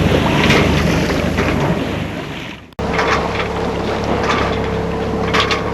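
A sailboat motoring under engine assist in Mistral wind and swell off the tip of the Giens peninsula, a steady loud engine drone mixed with gusty wind noise on the microphone and water wash, with a brief dropout midway.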